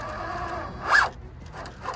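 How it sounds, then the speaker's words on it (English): The slipper clutch in an RC crawler's gearbox slips, giving a brief whirring, zip-like scrape over a faint mechanical background, with a softer repeat near the end. "the slipper in that gearbox has slipped pretty much nearly wide open"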